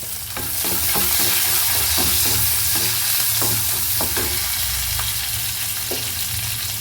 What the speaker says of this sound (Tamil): அந்த வெங்காயத்தை ஃபஸ்ட்டு நம்ம போட்டு நல்லா வதக்கிடலாம்